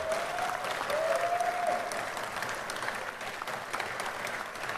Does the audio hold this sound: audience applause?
yes